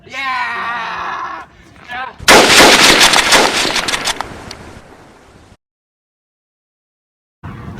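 A volley of musket fire erupts as redcoat soldiers fire on a crowd in a historical drama scene, with a loud burst followed by crackling shots fading out, after a shouting voice and before silence.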